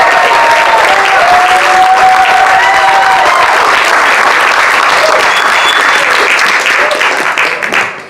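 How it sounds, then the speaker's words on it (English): Loud, sustained applause from a large audience at a poetry recitation event, dense clapping that holds steady and then tapers off at the end. "one more final round of applause for all of our incredible performers today"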